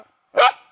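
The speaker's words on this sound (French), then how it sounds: "Oh, il y a des chiens de partout." A single dog bark rings out nearby in a Thai village, one short burst standing alone above a quiet background hum.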